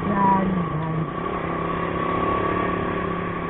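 Busy road traffic of cars and motorcycles rumbles steadily nearby, with engine drone and a revving passer-by early on, continuous and fairly loud throughout.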